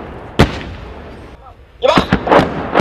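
Japanese military artillery fires a shell that impacts downrange: one sharp, loud blast, then a quieter gap before a rapid cluster of heavy booms close together.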